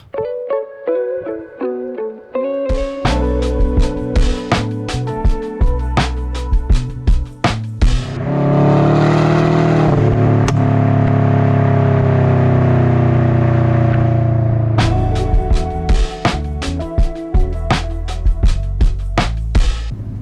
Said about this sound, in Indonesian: you tahu suaranya jadi seperti apa sejak kita pasang blow off valve